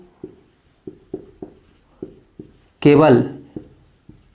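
A teacher writes on a board during a chemistry lesson, producing a series of short, distinct tapping and scratching strokes in irregular rhythm, with a brief spoken word in the middle.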